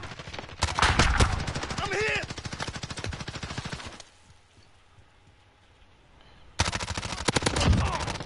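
Rapid automatic gunfire in the video game Call of Duty, loud sustained bursts of machine-gun fire that stop for a quiet stretch of a few seconds, then resume just as close and loud.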